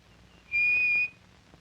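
A hoary marmot gives a single shrill, piercing whistle of about half a second, steady and clear, among high-altitude boulder fields in the Rockies, with faint background hiss around it.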